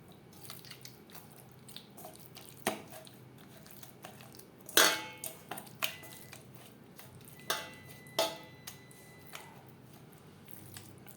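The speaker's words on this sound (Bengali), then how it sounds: "ডিমের সাথে লবণ, হলুদ ও মশলা বেশ ভালো করে মিক্সড করে নেব।" Fish eggs are mixed by hand with salt, turmeric, ginger paste and chili paste in a bowl, giving faint wet squelches, soft clinks and a few sharper taps against the dish in a quiet kitchen.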